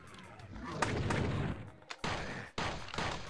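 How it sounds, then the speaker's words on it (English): Gunfire in the co-op shooter Hideous Destructor, heavy overlapping shots and booming bursts with sharp breaks between them, loud and close in a game setting. "Who's shooting? It's above us."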